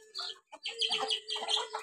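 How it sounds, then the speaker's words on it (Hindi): Soft, close chicken clucks and short chirpy calls in quick irregular bursts, with no talking. "तो यार ये मुर्गियाँ आप देख सकते हैं, दोनों मुर्गे हैं ना जी।"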